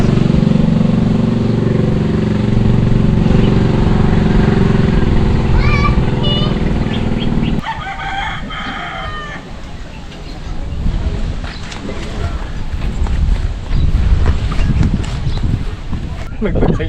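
A vehicle engine drones loudly and steadily in an outdoor setting, then drops away midway to a rougher, windy rumble as people talk over it.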